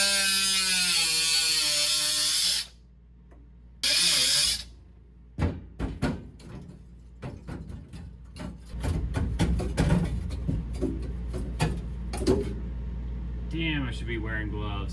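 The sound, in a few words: cutting a rectangle out of rotted truck floor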